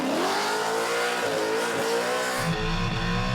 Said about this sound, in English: Getting on and off the throttle a little bit